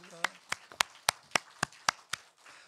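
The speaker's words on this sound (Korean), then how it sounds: "우리 하나님께 영광의 박수 올려드립니다" Clapping during a Sunday church worship service: about eight sharp, evenly spaced claps in a steady rhythm, fairly faint, with a short voice at the very start.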